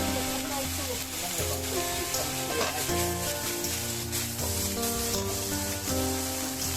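Torn pieces of silken tofu frying in a hot pan, giving a steady, loud sizzle with stirring and scraping throughout, over a low, constant hum.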